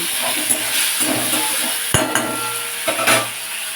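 Chopped tomato dropped into a pan of hot spice tempering for a vegetarian potol dish, giving a steady close sizzle with a few sharp clatters and stirring scrapes of a utensil against the pan.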